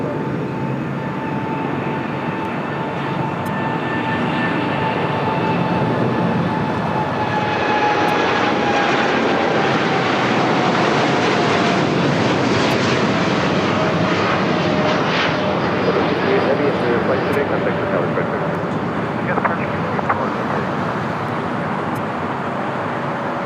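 Delta Airbus A350 airliner jet engines roaring at LAX, a loud, steady broadband rumble with a high whine that slowly falls in pitch, swelling midway as the aircraft passes close.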